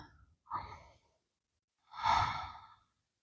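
Two slow breaths during a hip and low back yoga flow: a short inhale followed by a long, deep sighing exhale, close and clear against silence.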